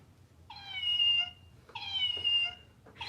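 A thrift-store toy cat meows after its button is pressed, two electronic meows about a second long each, fairly close and clear over a quiet room, with a click just before the last.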